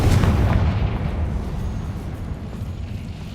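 The Confringo fire spell from the Hogwarts Legacy video game explodes as a loud, deep blast that rolls into a rumbling, slowly fading boom.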